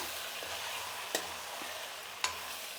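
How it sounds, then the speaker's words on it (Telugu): Ground paste is being stirred into capsicum and potato frying in a pan. A steady sizzle runs throughout, broken by two crisp scrapes of the spoon against the pan. No one speaks. "ఇప్పుడు మనం పేస్ట్ వేసాం కదండి, ఇది బాగా కలుపుకునేద్దాము"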